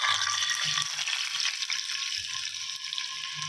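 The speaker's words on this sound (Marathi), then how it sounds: "मी इथे चिंचं पाणी घेतलेलं आहे ते टाकायचं आहे" Tamarind water hitting hot oil tempered with cumin and ginger-garlic paste while making temple-style kadhi, a steady loud hiss and sizzle filling the whole stretch without pause.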